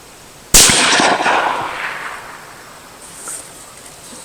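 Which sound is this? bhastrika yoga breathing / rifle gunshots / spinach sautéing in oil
rifle gunshots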